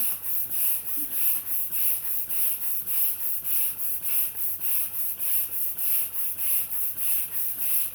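A hand pump inflating a punch balloon gives a steady, rhythmic series of airy hissing strokes, about two per second, close and fairly loud with no talking.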